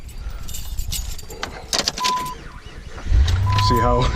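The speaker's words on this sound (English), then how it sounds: "See how hard that was to crank up? It's very sluggish." Keys jingle close by, then a 2004 Jeep Grand Cherokee 4.7L on a half-charged battery cranks sluggishly, a loud, labored low churn that starts partway through and grinds on to the end.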